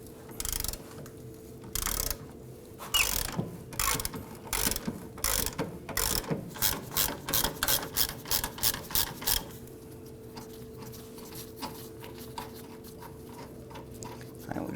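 A ratchet loosens a trailing arm suspension bolt on a 2008-2011 Ford Focus, clicking in quick repeated strokes up close, with bursts that speed into a steady rhythm before stopping.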